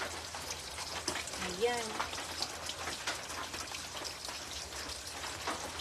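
Rain falls steadily on a surface outdoors, a continuous pattering hiss with a brief voice speaking over it early on.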